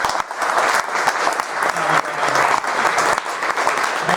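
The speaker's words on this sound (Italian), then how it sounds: "gli facciamo un applauso" An audience applauds to welcome a guest, loud dense clapping that rolls on unevenly for several seconds with a few voices mixed in.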